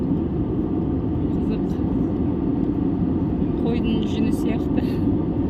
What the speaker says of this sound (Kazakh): Бұлттан биік ұшып келе жатырмыз.